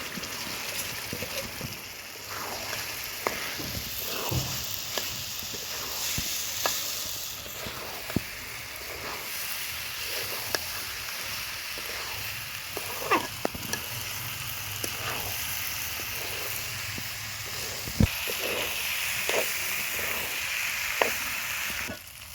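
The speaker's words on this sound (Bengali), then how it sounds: "এখন চালটাকে এর মধ্যে দিয়ে আমি ভেজে নিব" Pulao rice for biryani sizzles in a small pot with a continuous frying hiss and dry crackle, punctuated by scattered scraping and stirring knocks close at hand.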